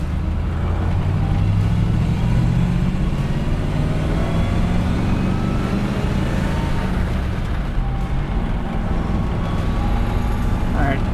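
A 1961 Corvette cruises down the road with a steady, loud rumble of engine and road noise that holds for the whole stretch, and a voice is partly buried beneath it.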